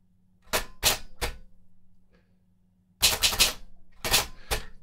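A Consul 232 Czech ultra-portable typewriter clacks close by, three sharp key strikes, a short pause, then a faster cluster of keystrokes, each with a metallic snap.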